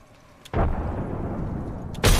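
A frag grenade goes off in the video game Apex Legends with a loud, sustained booming blast, followed right after by a second sharp burst.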